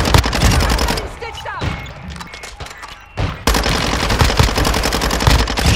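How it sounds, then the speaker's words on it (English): Rapid automatic gunfire in the video game Call of Duty Warzone 2.0, loud and close, in sustained bursts with a brief lull in the middle, then dense firing resumes. "You're shooting friendlies!"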